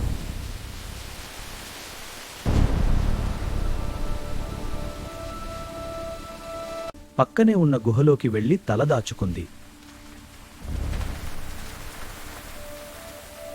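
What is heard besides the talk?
rain and thunder sound effect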